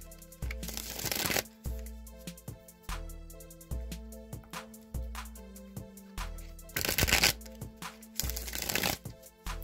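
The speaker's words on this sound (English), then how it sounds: "I'm just going to give these cards a few shuffles" A Rider-Waite tarot deck being shuffled by hand, repeated riffles and bridges in a steady rhythm with a few louder bursts of fluttering cards, close and clear with no talking.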